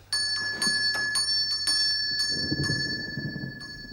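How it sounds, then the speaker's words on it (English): A bell rings repeatedly in quick, regular strikes with a sustained metallic ring, nearby; a low rumble rises toward the end. "who's ringing the bell?"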